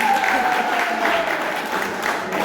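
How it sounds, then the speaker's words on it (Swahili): Congregation in an AIPCA church clapping together, a continuous dense round of applause with faint crowd noise beneath, even in loudness from start to finish. "Tupigie makofi mazuri"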